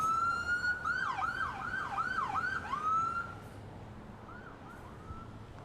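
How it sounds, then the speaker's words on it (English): Wailing sirens of a NATO summit motorcade in Washington, DC, with rapid yelp cycles that rise and fall several times over steady traffic rumble, then settle into a fainter, slower wail. "we wanted to start off with that motorcade so you can hear the sirens"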